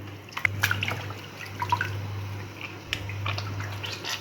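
Water drips and splashes irregularly over a low steady hum as meat is rinsed, with scattered small splashes close by and no talking.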